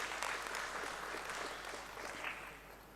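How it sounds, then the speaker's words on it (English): Steady applause from an audience at a company stock listing ceremony fills the whole stretch, dense and even, gradually easing slightly toward the end. "So a very good round of applause for Filtra Consultant."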